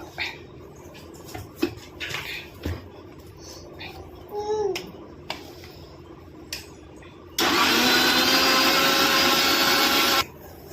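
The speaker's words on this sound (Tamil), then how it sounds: "இது எல்லாத்தையும் ஒன்றா சேர்த்து மிக்சியில் போட்டு அரைச்சி எடுத்துக்கிடுவோம்" A mixer grinder blends apple pieces, sugar and honey for juice. It roars loudly and steadily for about three seconds after some quiet handling noises and a few clinks.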